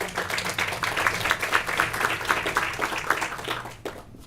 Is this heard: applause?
yes